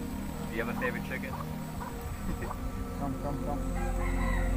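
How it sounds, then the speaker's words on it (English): Chickens cluck and a rooster crows on a farm in Caye Caulker, with repeated clucks and calls over a steady low rumble of background noise. People talk throughout. "Do you have a favorite chicken?"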